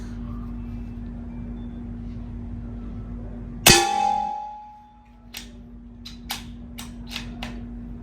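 A Crosman Benjamin Armada air rifle fired once, giving a single sharp crack over a steady background hum, followed by a few faint clicks and handling taps.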